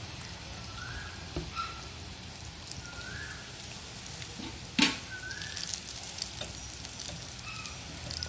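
Sweet potato bread rolls deep frying in hot oil crackle and sizzle steadily nearby. A single sharp metallic clank cuts through the bubbling partway through, and no voices are heard.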